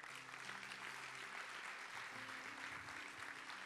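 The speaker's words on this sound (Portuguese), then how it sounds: "Você pode dar um aplauso a ele?" A church congregation applauds during a Portuguese-language sermon, a steady wash of clapping heard at a distance with faint tonal hum and murmured voices underneath.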